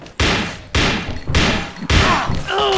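Several heavy pistol gunshots in a video game boom in quick succession, each loud blast followed by a short decay, ending with a brief ringing metallic tone.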